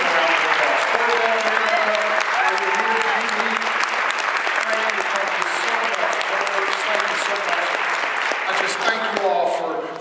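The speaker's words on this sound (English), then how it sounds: "Let's give them a round of applause." Loud, sustained applause from an indoor audience honoring sponsors at a snowy-night event, steady dense clapping filling the whole stretch with a few voices and cheers mixed in before it starts to taper at the end.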